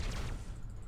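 Cannon fire in an Eldar multiplayer space battle video game: a loud, dense burst of booming low-end shots packed together in a rapid volley, then a lower rumbling tail.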